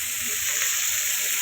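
Spices frying in hot oil on a stove for a home-cooked chicken curry, a steady, even sizzle that holds unbroken throughout with no voices.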